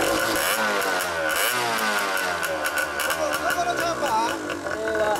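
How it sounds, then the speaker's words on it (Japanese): A Kawasaki KDX125 off-road motorcycle fitted with an RSV chamber exhaust runs nearby, its engine buzzing steadily with repeated throttle blips rising and falling, while people talk over it. "はいよ、エンジンかけて。"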